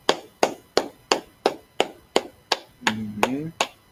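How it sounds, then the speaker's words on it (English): Congregation at a Sabbath service clapping hands in a slow, steady beat, about ten crisp, evenly spaced claps close by, with a brief voice rising over the last few. "let's clap it up to the Most High hand"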